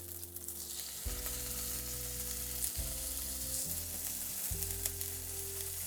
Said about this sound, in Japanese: 身の方もさっと焼いてあげた方が いいので、少しだけひっくり返して